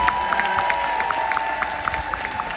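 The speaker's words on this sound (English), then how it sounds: "Can we give a round of applause for our mild to moderate support needs graduates?" An audience at a school graduation ceremony claps steadily for the graduates, a dense indoor patter of applause with a sustained tone beneath and no talking.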